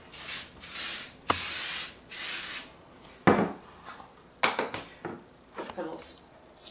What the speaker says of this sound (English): spray here and spray our pan.